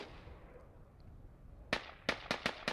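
Gunfire in a competitive video game match: after a quiet stretch, five sharp cracking shots ring out in an uneven burst toward the end, fairly distant.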